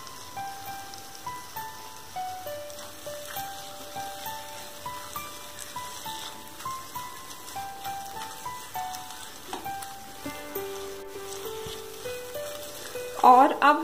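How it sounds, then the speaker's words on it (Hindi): Onion slices sizzle in a hot pan while being cooked for paneer do pyaza, a steady crackling hiss that runs throughout beneath melodic background music, with a louder burst near the end. "और अब हम इसमें डालेंगे ये प्याज के स्लाइस को।"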